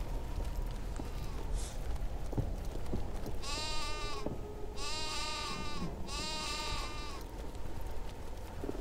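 In the video game Niffelheim, a sheep gives two drawn-out, wavering bleats, one after the other, over a low game soundscape with faint footsteps.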